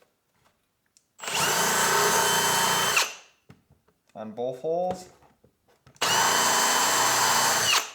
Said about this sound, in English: start your drill in reverse